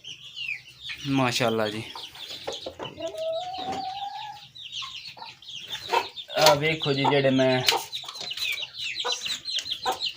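Chickens and roosters on a poultry farm cluck and call repeatedly nearby, with a rooster crowing, while someone talks between the bird sounds.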